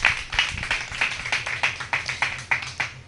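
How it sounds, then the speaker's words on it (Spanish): A congregation at a religious service claps in a slow, steady unison rhythm, about three claps a second, fairly close and clear with a low background murmur. "Dele un aplauso a el Eterno."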